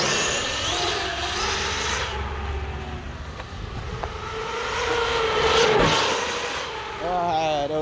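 An Arrma Kraton 8S 1/5 scale RC car runs at speed with a steady, loud whining and rushing drone that swells and eases over several seconds, with faint voices in the background.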